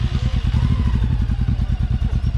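A motorcycle engine revving steadily up close, a loud rapid throbbing pulse that holds through the whole stretch with rattly mechanical clatter.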